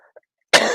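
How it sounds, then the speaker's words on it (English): A single sharp, loud cough close to the microphone after near silence. "Sorry for this cough."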